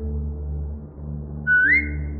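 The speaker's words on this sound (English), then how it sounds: "Now whistle and tell her to lie down." A short rising whistle at a dog in The Walking Dead: The Final Season video game, heard once over a steady low game-music bed.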